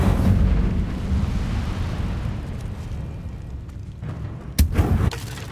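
A fire spell cast in the Hogwarts Legacy game, heard as a steady roaring, rumbling whoosh that gradually eases off, then a sharp burst with a crackling flare near the end.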